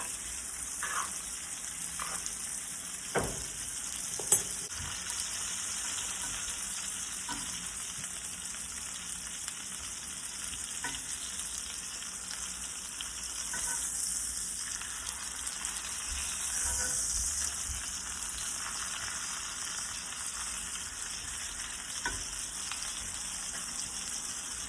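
Thick ribeye steaks searing in a pan while being basted with butter, garlic and thyme, a steady bright sizzle throughout with occasional spoon clinks and spatters, close up and without talk.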